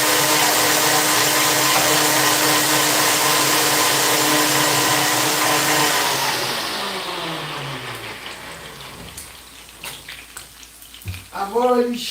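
A kitchen blender running hard during okra soup preparation, a loud dense whirring roar that holds for several seconds and then winds down, giving way to softer clatter and movement.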